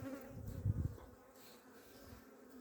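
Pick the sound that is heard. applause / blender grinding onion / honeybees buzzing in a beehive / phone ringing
honeybees buzzing in a beehive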